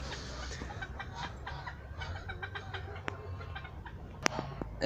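Backyard chickens eating scraps by their coop cluck and murmur softly at close range, with scattered short calls over a quiet outdoor background and a brief sharp knock near the end.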